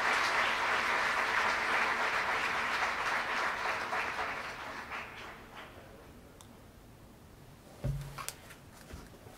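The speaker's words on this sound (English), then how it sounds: "Big applause to all of them." Audience applause at a cybersecurity competition ceremony: a steady wash of many hands clapping that gradually thins and fades, ending with a few scattered claps and a brief thump.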